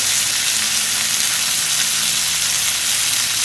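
Pomfret fish frying in hot oil in a pan, a loud, dense, continuous sizzling hiss close up with no voices over it.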